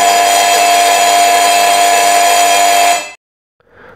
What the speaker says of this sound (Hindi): देखते हैं कि बजर ऑन होता है या नहीं होता।